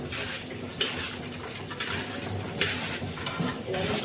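Tap water runs steadily into a sink while cooking pots are washed, a continuous splashing rush with a few soft knocks of metal against metal.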